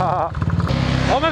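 A supermoto motorcycle revs hard and close while riding and drifting, the engine note rising and falling in quick bursts with voices talking over it.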